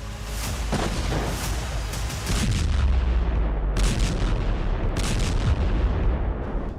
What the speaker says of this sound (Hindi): इजरायल की एयर स्ट्राइक, बेरूत में बारूदी हमला